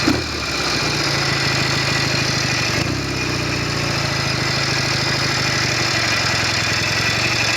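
A Norton Commando 750 motorcycle engine with a tickover fault settles into a steady, throbbing idle up close, its low, even pulsing running uninterrupted after a brief louder blip at the start.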